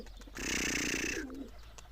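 A single soft, throaty coo from a nearby two-and-a-half-year-old black-blue male pigeon, rising then trailing off over a low background hum.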